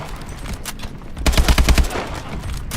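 Rapid bursts of AK rifle fire in Call of Duty: Advanced Warfare, a loud, dense volley of automatic shots peaking in the middle before trailing into scattered single cracks.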